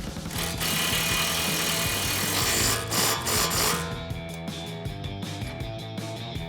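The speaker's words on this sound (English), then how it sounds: "Grab our impact 18mm socket and a 17mm wrench to hold the backside." Impact wrench driving an 18mm nut during a Mustang shock and strut install, a dense mechanical burst for about four seconds that gives way to lighter rattling and clicking, close and loud with no talking.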